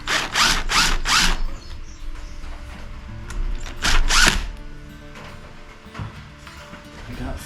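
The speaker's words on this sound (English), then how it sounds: "Now we can tighten clamps up." Hose clamps being tightened on a Rough Country cold air intake fitted to a Jeep Gladiator: a few bursts of ratcheting, whirring tool noise close up, separated by quieter gaps of faint mechanical clicks.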